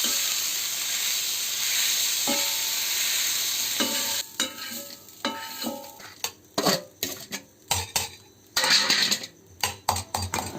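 Oats dosa batter gets mixed with lightly sautéed vegetables, a spoon scraping and clinking against the bowl in bursts of stirring over a steady frying sizzle in the background; no one speaks.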